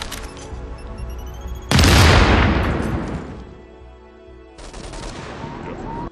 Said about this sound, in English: press the right trigger to throw it and wait for the blast